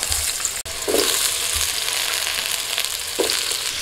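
Potatoes frying in oil in a wok, a steady close sizzle with light stirring bumps, no voices.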